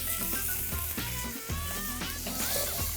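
Pineapple and vegetables sizzle in a hot wok, a loud continuous frying crackle with bursts and stirring clatters, near and busy throughout, with no talking.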